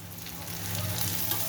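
Ginger and garlic paste frying with onions in hot oil for a hilsa fish head curry, a dense continuous sizzle heard up close with no voices.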